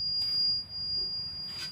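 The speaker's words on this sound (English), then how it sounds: "There's a bit of an alarm going on. Coming from the fuel guard." A fuel guard alarm on a narrowboat sounds a continuous high-pitched electronic tone, steady and moderately loud, over faint low background rumble.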